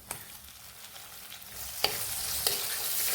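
Chopped tomato sautés in a pan with garlic and onion, with a steady sizzle that builds in loudness, and a couple of light utensil scrapes stand out near the end.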